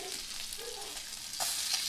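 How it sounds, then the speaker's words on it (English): Steak searing in a hot pan for an open-faced chimichurri steak sandwich, a steady close sizzle and frying hiss running throughout, with a brief louder burst near the end as the meat shifts. "So here we're going to seal the meat."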